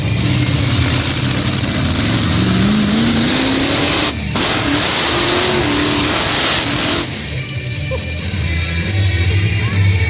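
A loud truck engine at a truck show revs hard and roars continuously, rising in pitch, with heavy rumble throughout and no talking.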